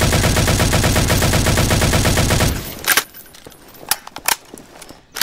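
Halo weapons firing in the video game Garry's Mod, a loud continuous rapid-fire burst with a pulsing rhythm that cuts off abruptly, followed by several sharp scattered shots and clicks.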